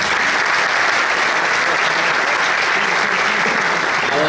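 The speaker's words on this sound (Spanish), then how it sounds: "Un fuerte aplauso para Rubén Peralta." Continuous applause from a seated audience at a basketball defense presentation, loud and evenly sustained throughout with no pauses.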